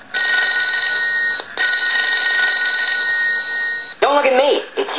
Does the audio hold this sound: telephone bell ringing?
yes